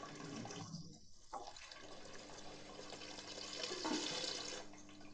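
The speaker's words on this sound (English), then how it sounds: "The flow of the siphon is at full capacity and we are not taking any type of gravel grain to the bucket." An aquarium gravel siphon running at full flow drains water into a bucket over quartz sand substrate, a continuous close gush and gurgle with a small dip early on and a swell near the end.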